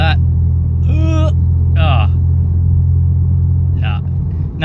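A Lexus IS200T with its axle-back muffler deleted idles with a loud, deep exhaust drone, heard close up, while people talk over it in short excited bursts.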